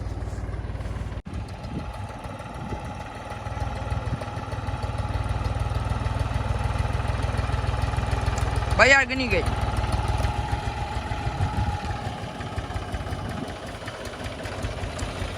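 Old tractor, about seven to eight years in service and needing repairs, its engine running with a steady low idling chug throughout, moderately close, with a brief voice partway through.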